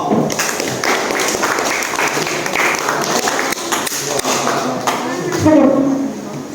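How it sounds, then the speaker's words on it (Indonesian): A group of students claps together in a classroom, a steady burst of applause with some voices mixed in, fairly close and lively. "Tepuk tangan untuk per kelompok"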